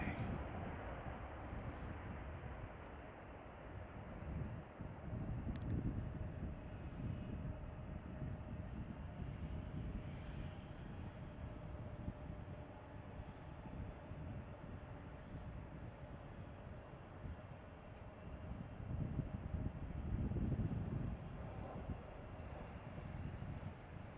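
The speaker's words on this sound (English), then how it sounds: "Here's British Airways flight 297 that arrived here from London Heathrow." British Airways airliner arriving at Chicago O'Hare from London Heathrow, a distant, steady low jet rumble that swells gently twice.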